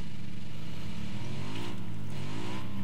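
Engine of a car driven in PUBG, steady droning hum with shifting pitch as it revs, loud and continuous throughout with no talk over it.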